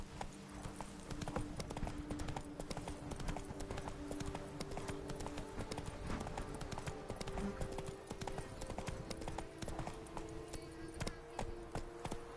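Hooves of Geralt's horse Roach in The Witcher clip-clop in a steady rhythmic trot throughout, moderately close, with faint ambient game sound beneath.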